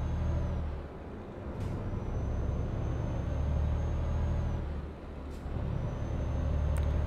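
Truck air brakes hiss in Euro Truck Simulator 2 over a steady low engine rumble, with sharp brief bursts of air around 1.6 and 5.4 seconds and a dip in the drone near 5 seconds.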